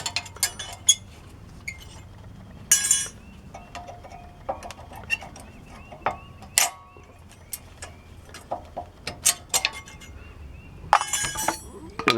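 Small metal brake caliper clips pried off a Chevy Tahoe caliper, giving a run of sharp scattered clinks and metallic taps at close range, some bursts brighter and rattly, with a faint low hum underneath.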